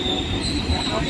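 Local train wheels squealing at a station in Uluberia after an accident, a loud sustained high metallic screech over heavy low rumble as the train moves slowly.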